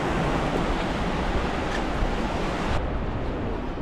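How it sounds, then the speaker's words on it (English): Strong wind gusts roar across a lake in Patagonia, whipping up whitecaps and spray, a loud, continuous rush of wind buffeting the microphone with churning waves beneath, easing slightly near the end. "quite an intense journey actually, with the wind and all the water blowing off the lake"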